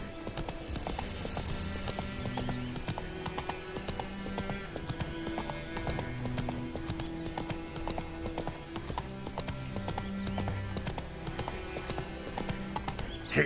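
Roach, Geralt's horse in The Witcher 3, gallops with a fast, even clip-clop of hooves that runs throughout, mixed with game music and a faint whinny.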